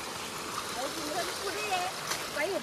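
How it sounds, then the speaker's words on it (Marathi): Water flowing across a road makes a steady, close, rushing wash, with people's voices talking over the continuous flow throughout. "हे रस्त्यावरून पूर्ण पाणी वाहते ना"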